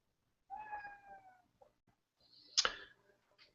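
A house cat meows a few times nearby in an otherwise quiet room, with one drawn-out call followed by a sharper, louder cry.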